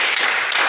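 A group claps together on cue, a short burst of hand claps that fills the moment with dense, close, fairly loud slapping and no talk over it.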